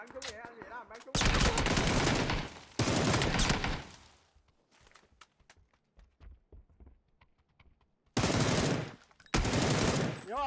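Video game gunfire comes in loud, sustained automatic bursts with short pauses between them, while players talk over the action.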